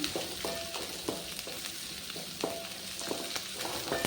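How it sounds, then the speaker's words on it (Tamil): Onions sauté in a pan for a Madurai-style chutney, a steady close sizzle broken by repeated scraping and clinking strokes of a spatula, no speech. "இப்போ இதெல்லாம் நல்லா வதக்கி விட்டுருலாங்க வெங்காயம் வந்து நல்லா வதங்கி வரணும்"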